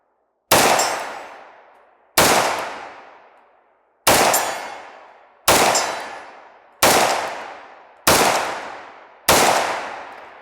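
A military surplus pistol fires seven loud, sharp shots spaced roughly evenly about a second and a half apart, each crack decaying into a short echoing tail, with no talking.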